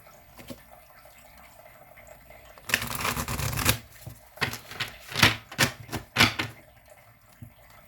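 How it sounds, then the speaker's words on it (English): A deck of cards being shuffled close up, a dense riffle burst followed by several shorter flicking and tapping bursts, loud against a quiet background with no voices. "One more shuffle."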